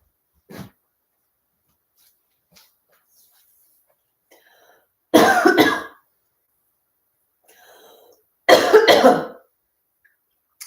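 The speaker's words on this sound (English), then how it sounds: "If you do cough after you're breathing, that's a good sign because you're able to dislodge mucus." A person coughs twice during a yoga breathing session, each a loud harsh burst about half a second long, separated by several seconds of near silence.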